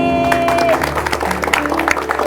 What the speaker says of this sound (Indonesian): saya juga minta tepuk tangan untuk teman saya yang ada di belakang